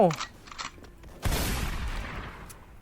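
A low-recoil gun fires in a Thai shooter video game, a sharp burst of shots with a booming decay that trails off over a couple of seconds, after a brief voice at the start.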